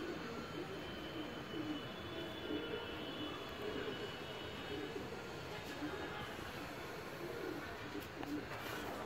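Soft pigeon cooing over a steady broadband hum of outdoor noise, with a faint drone like a distant aircraft throughout.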